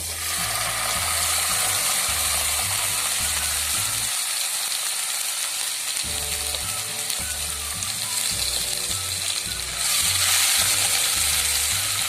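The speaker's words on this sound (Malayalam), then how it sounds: "നമ്മളുടെ ഇഞ്ചി വെളുത്തുള്ളി പേസ്റ്റ് വെളിച്ചെണ്ണയിലേക്ക് ഇട്ടു" Ginger garlic paste sizzling in hot coconut oil for a Kerala beef pickle, with steady loud frying hiss and a rhythmic mechanical clatter underneath throughout, close and without speech.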